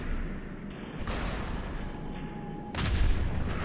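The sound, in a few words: explosive projectile hitting enemy in video game Fallout 4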